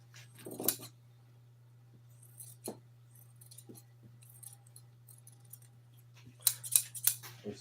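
Sharp scissors snipping through Toyota seat cover fabric, a few crisp cuts spaced out with a cluster of quick snips near the end, close and fairly quiet over a steady low hum.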